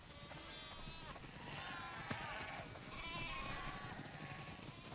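Sheep bleat in The Last of Us Part II, several drawn-out wavering calls overlapping across the scene against a steady ambient wash, moderately near.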